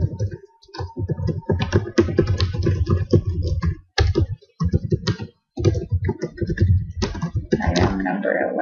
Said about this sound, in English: And then we want to type best regards as the complementary close